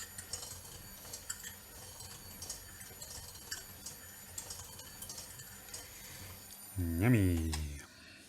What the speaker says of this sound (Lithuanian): Ir dabar viską išmaišom.